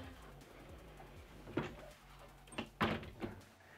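The bedroom door in a 2021 Dynamax Europa 31SS Super C motorhome swings shut with a few close, sharp knocks and latch clicks. The sounds come in a short cluster over a quiet interior hum.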